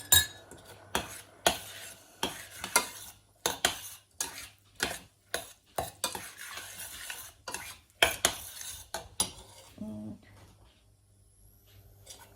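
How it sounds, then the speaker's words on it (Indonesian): A spoon repeatedly scraping and knocking against a pan while apple pastry filling is stirred, about a dozen sharp clinks and scrapes at an uneven rhythm, close and fairly quiet, with a faint hum underneath. "Sambil terus-menerus diaduk-aduk ya teman-teman."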